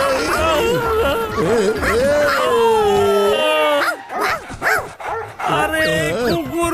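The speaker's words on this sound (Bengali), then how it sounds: "আরে অনেকগুলো কুকুর!" A pack of cartoon dogs from Motu Patlu barks, yips and whimpers loudly in quick overlapping bursts, with voices mixed in among the animal cries.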